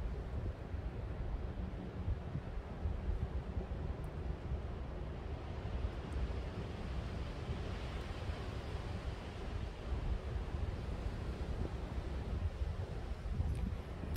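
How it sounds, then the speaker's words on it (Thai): Wind blows steadily outdoors behind a garden, a constant rushing roar buffeting the microphone with no voices. "เบิ่งเสียงพี่ลมพัดฟังม่วนไปอีกบรรยากาศนึงเนาะ"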